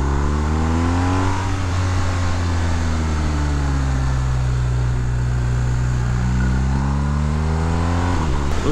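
A 2019 BMW R1250R Sport motorcycle engine drones loud and close while riding, its pitch falling, holding steady, then rising again as the rider rolls off and back on the throttle.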